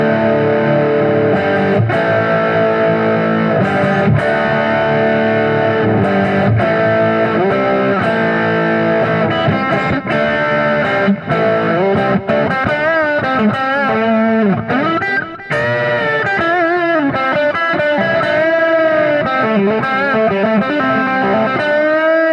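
An electric guitar through an echo preset on a Spark amp plays sustained, distorted notes and chords with repeating delayed trails, loud and continuous with no talking.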